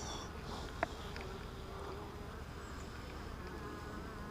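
Steady low insect buzzing from many honey bees at a hive fills the clip, a continuous hum with one brief click near the start; no voices.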